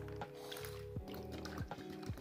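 Water is poured and drained off chilled coconut mixture during homemade coconut oil making, a soft continuous trickle with small dripping gurgles, close and fairly quiet.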